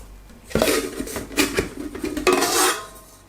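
Metal camping cookset pots clank and rattle together as they are handled, with a few sharp knocks and a scraping, jostling clatter up close.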